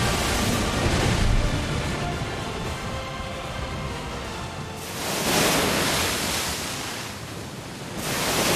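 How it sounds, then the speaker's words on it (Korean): Sea waves surge against coastal cliffs in Iceland, a loud, steady roar of broadband surf with swells building and crashing about every few seconds, no voices. "파도가 쫙 들어와서 이렇게 포말이 확 파도가 올라오는 거예요."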